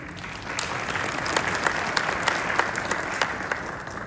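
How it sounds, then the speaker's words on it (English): Audience clapping at a panel talk on sustainability in the operating room, a dense, steady round of applause with sharp individual claps, no speech. "Round of applause, please"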